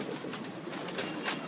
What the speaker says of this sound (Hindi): ये सब टैडी पड़े हैं जी उस्ताद शहजादा और उस्ताद पप्पू कसाई के घर के